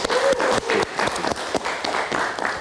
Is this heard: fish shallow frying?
no